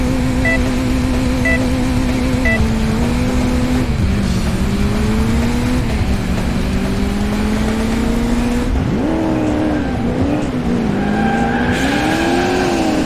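A car races in pursuit of a remote-controlled vehicle in the Crash Time 2 Autobahn police game, its engine droning loudly and changing pitch steadily, with tire squeals and a hard rev near the end.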